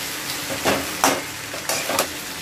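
Vegetables and noodles for veg hakka noodles being stir-fried in a pan, with a steady sizzle and several scraping, tossing strokes at a roughly even rhythm, close and fairly loud.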